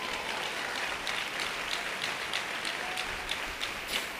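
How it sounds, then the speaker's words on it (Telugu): A church congregation claps together during a sermon, a steady wash of many hands with sharper claps standing out, loud and continuous with no speech. "చప్పట్లు కొట్టు"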